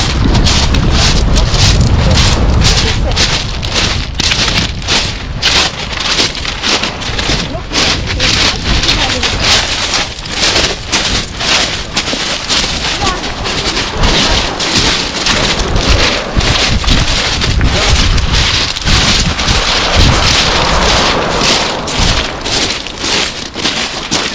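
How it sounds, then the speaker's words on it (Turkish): Strong wind buffets the microphone on a nature walk along the Carian Trail between Mesudiye and Hayıtbükü, a loud continuous rumbling roar throughout. "Esiyor esiyor. Esiyor."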